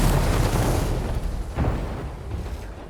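Incoming missiles exploding in the mech combat video game War Robots: Frontiers: a heavy rumbling boom that fades, then a second thud about halfway through, loud and close, with no voices.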